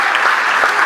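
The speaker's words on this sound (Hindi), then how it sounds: "ताली बजा दो भाई" Brief burst of dense audience clapping at a Hindi comic poetry gathering, close and steady for under a second.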